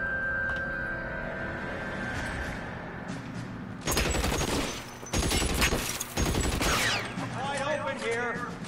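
Gunfire in the L.A. Noire video game: quieter ambience and voices give way to loud bursts of rapid shots in several clusters, with brief gaps between volleys.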